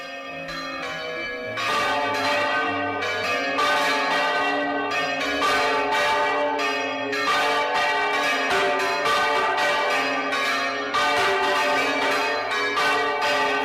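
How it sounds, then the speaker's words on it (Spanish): The church bells of Vitoria all ring the alarm together during a procession, a loud, dense clangour of overlapping strikes in repeated bursts with no talk. "las campanas de Vitoria, todas a la vez, volvieron a tocar a rebato"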